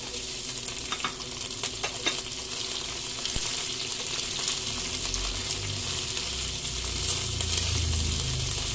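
Onions sizzle steadily in an electric pan, a dense continuous frying hiss with occasional scraping stir sounds, close and with no talking.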